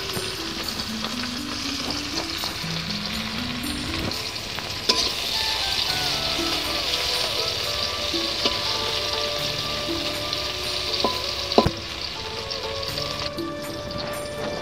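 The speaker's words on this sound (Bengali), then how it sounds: "এখন আমি উচ্ছাটা সম্রাচ্ছি" Bitter gourd frying in plenty of oil in a wok makes a continuous dense crackle and sizzle, with occasional stirring clatter. A faint tune plays underneath.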